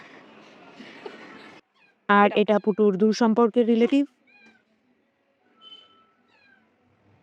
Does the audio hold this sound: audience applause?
no